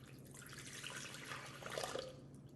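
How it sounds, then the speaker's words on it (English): A cup of warm water is poured into a mixing bowl for activating yeast, a faint, brief trickle and splash in a quiet kitchen. "Then you'll take your 1 cup of warm water and pour it in the bowl."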